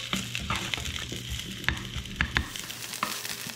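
Onions frying in a hot pan for a slow cooker pot roast, a steady close sizzle broken by several sharp crackles and pops, with no talking.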